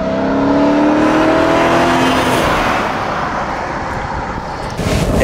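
A 1994 Mercedes E 500 Limited with a five-litre V8 pulls away on the road, its engine roaring loudly and steadily as it accelerates, settling into a broad rushing drone.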